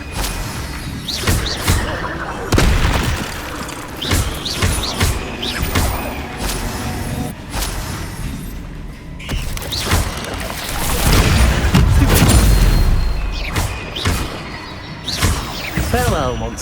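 Spell blasts in the wizarding video game Hogwarts Legacy, cast in combat: a series of loud booming bursts and thuds at irregular intervals, one long roaring blast near the end, with a voice speaking throughout.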